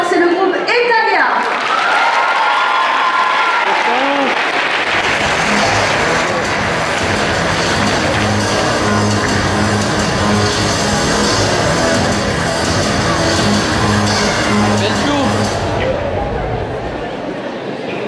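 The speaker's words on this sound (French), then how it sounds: "On les applaudit bien fort, c'est le groupe Etalia." Audience at a cosplay contest on an anime convention stage applauds and cheers loudly for a performing group, a steady, dense roar of clapping lasting many seconds, with a voice speaking at the start and the noise cutting off near the end.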